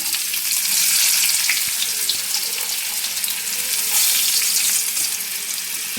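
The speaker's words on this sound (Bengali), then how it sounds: "পেঁয়াজটা ভাজতে দিলাম।" Chopped onions fry in oil with dried chilli and cardamom, a steady close sizzling hiss that swells and fades slightly without pause.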